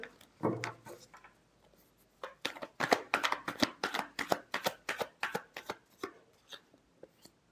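Tarot cards being shuffled close up, a quick run of crisp riffling slaps and flutters in rapid bursts, quiet and alone, with a brief pause before a longer shuffle.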